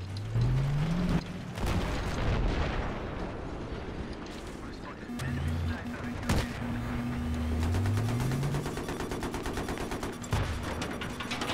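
Battlefield 3 game combat on Wake Island, with rapid bursts of automatic gunfire, sharp blasts and rising aircraft engine tones layered into a loud, dense battle scene.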